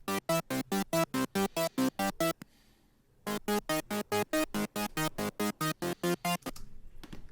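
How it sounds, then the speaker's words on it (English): A future bass synth chord runs through an arpeggiator, firing steady, evenly spaced rapid stabs in two bursts separated by a short gap, loud and alone with no voice. "You click the arpeggiator, and at first sounds like this."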